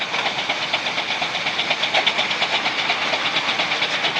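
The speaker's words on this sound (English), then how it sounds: "there goes the little patching roller" A small steam patching roller engine runs at a steam fair, giving a steady rhythmic chuffing and hissing with a regular knocking beat, fairly close and continuous throughout.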